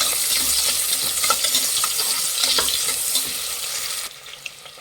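Long-sliced onions and curry leaves frying in hot oil for tomato rice, a loud close hiss and crackle with spoon stirring clinks, the sizzle dropping off sharply near the end.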